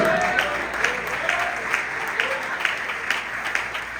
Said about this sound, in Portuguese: Jesus está aqui nessa noite, pode aplaudir.